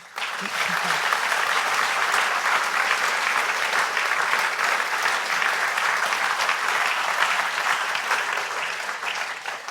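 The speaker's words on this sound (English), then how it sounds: "So I just want you to clap that" Sustained audience applause at a talk about sex education fills the room, the dense clapping loud and steady for nearly ten seconds before easing slightly at the end.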